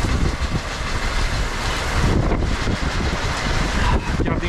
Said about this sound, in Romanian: Hai, doamne, e o furtună teribilă! Un vânt! N-am văzut așa vânt niciodată aici.